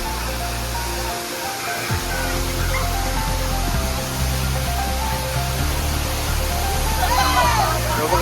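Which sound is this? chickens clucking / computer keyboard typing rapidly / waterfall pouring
waterfall pouring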